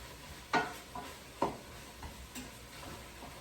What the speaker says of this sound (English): I'm gonna go ahead and give this a nice stir.